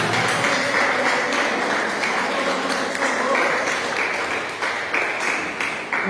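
A church congregation claps for the Lord during a Portuguese-language evening service, a steady, loud wash of applause that carries on for several seconds with faint voices mixed in.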